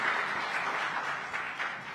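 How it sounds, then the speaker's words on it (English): An audience applauds at a live startup awards event, a dense, steady wash of clapping that holds evenly for about two seconds with no voices over it. "A huge round of applause for Mr. Vaidyanathan of IDFC FIRST Bank"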